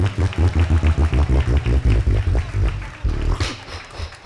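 Live show audience applause, opening with a run of loud, evenly spaced rhythmic claps in unison before breaking into looser scattered clapping.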